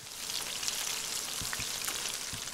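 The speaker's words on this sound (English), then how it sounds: "See how they sizzle when you put them in there?" Salmon cheeks sizzle in hot vegetable oil in a pan, giving a steady bright crackle of frying with scattered pops and spatters throughout and no voices.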